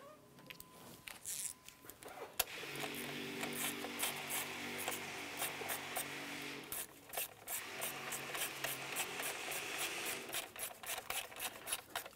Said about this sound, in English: Let's go ahead and snug those down.